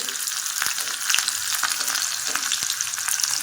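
Cumin seeds and chopped green chillies crackle and sizzle in very hot tempering oil in a small pan, with a dense, continuous hiss and scattered sharp pops close up.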